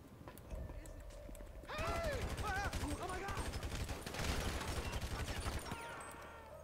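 Rapid bursts of gunfire from a GTA 5 shootout crackle continuously, dense and loud, with overlapping volleys and shouted voices layered on top throughout.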